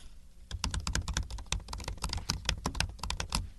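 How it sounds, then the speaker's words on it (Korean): Rapid, continuous typing with dense, close clicks in a steady rhythm. The keystrokes begin abruptly after a brief quiet moment and have no talk over them. "검은 화면에 이렇게 타자기 치는 소리가 들리면서 영화가 시작합니다"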